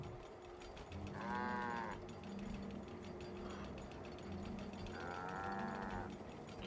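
Cows moo in the video game Guild Wars 2, two long drawn-out moos several seconds apart over a low ambient game background, moderately near, with no talking.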